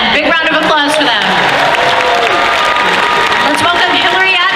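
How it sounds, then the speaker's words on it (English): Crowd applause and cheering at a convention costume contest, loud and continuous, with whoops and raised voices over the clapping. "Big round of applause for them."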